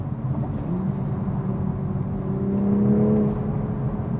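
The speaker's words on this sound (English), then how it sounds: "You can hear the burbles." A 2023 Toyota GR Supra with a manual gearbox drones steadily from inside the cabin, its engine note rising slightly on a downshift, with muted low exhaust rumble and no talking.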